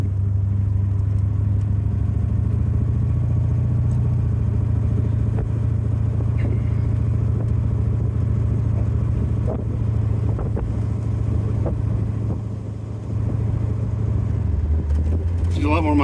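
Car engine with exhaust dump tube caps fitted, a steady low, smooth rumble running continuously close by, with slight variations and a brief dip near the end; speech mingles in over the engine.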